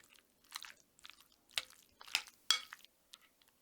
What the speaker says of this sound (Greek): Ρίχνω τη σως από πάνω και ανακατεύω καλά όλα μαζί μέχρι όλα τα κομμάτια τόφου να καλυφθούν